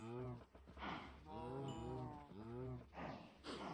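Minecraft cows moo in a series of drawn-out, close calls, one after another, with brief pauses between them and no talking.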